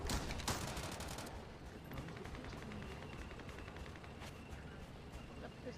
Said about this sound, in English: I'm gonna hit him with my pistol